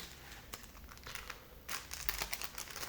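Soft plastic crinkling and rustling as pompoms drop into a plastic bag, louder toward the end, close up with no talking.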